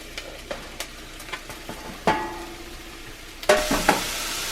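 Jalapenos and mushrooms cook in a cast iron pan for chicken chili, giving a soft steady sizzle punctuated by several sharp scraping stirs and clinks of a utensil against the pan, louder toward the end.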